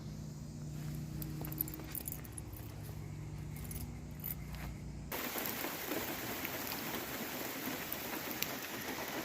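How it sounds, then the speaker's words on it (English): Steady heavy rain pouring down from the outer bands of a hurricane, a dense continuous wash that grows brighter and harder partway through, with no voices. "I'm just on the outer bands of this hurricane. It's just gonna rain for 30 hours."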